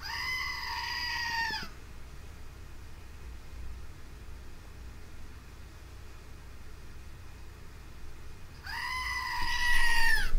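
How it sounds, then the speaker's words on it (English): A squeezed screaming goat toy gives two loud, close, long bleating screams. The first comes at the start and the second near the end, with a quiet stretch of room noise between them. "It's a screaming goat, and you squeeze it,"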